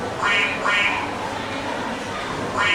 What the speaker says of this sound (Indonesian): ia melihat seekor angsa putih